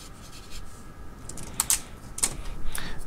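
A Sharpie marker scratching across the paper of a dotted notebook, soft squeaky strokes growing busier toward the end, close and quiet with no voices.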